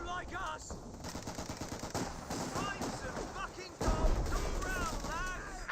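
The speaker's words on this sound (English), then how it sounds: "Looks like some artillery is raining in over here. A mix of looks like looks like a 120mm mortar," Artillery in Company of Heroes 2 with the Spearhead mod, 120mm and 4.2-inch mortar rounds mixed with rapid gunfire, bursting in a dense, loud barrage of cracks and booms, a heavy blast near the end, with a voice talking over it.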